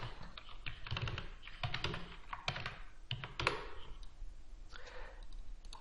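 Typing on a computer keyboard while writing a short note, with bursts of quick, close clicking keystrokes running through the whole stretch and brief pauses between them.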